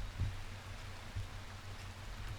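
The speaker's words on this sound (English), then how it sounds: "So they're sleeping in the rain in the jungle" Rain falls steadily over a jungle in the colony-building video game RimWorld, a soft, even hiss of rainfall with a couple of faint low thuds, quiet and with no voices.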